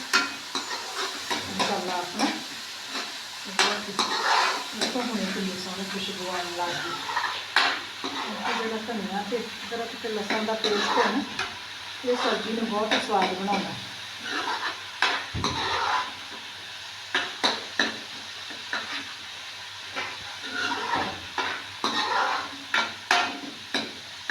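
Onions with garlic-ginger paste fry in a pan, a mid-level sizzle broken by frequent clinks and scrapes of a spoon against the metal as the mixture is stirred.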